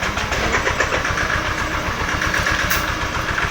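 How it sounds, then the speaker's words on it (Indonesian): A motorcycle with a weak battery, its engine running loud and close with a rough, uneven mechanical chug that stays steady throughout. "motornya hidup tapi mati lagi teman-teman ya"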